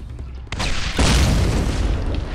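A grenade explodes in the video game Dreamkiller: a short thump followed by a louder, broad roaring blast that rumbles on for over a second, close and heavy.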